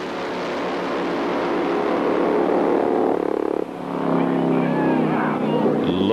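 Nitromethane-fuelled AHDRA drag racing motorcycles roar down the track, a loud, sustained, dense engine blast that dips briefly midway, then surges again as another bike passes close.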